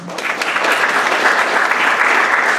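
Students in a room of about thirty at a Juneteenth celebration event give themselves a round of applause, dense steady clapping from a close audience building slightly over a few seconds.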